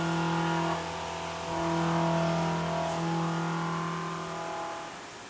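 A CNC mill runs a 2-inch four-insert face mill at 2,500 RPM and 30 inches per minute, giving a steady loud machine hum with sustained tonal whine that swells slightly midway, heard close with no talking.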